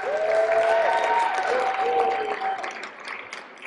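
Applause from family and friends in the audience at a Cincinnati chili evening event, a moderate round of clapping under tonal background sounds that gradually fades toward the end.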